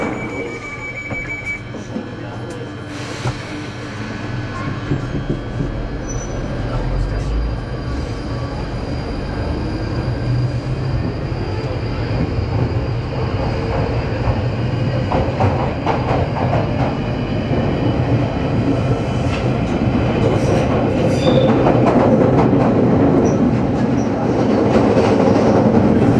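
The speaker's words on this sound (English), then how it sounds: "This train is now ready to depart." A passenger train in England pulls away and runs along the tracks, a building low rumble with rhythmic wheel clatter and occasional squeals, heard from inside the carriage with faint background voices.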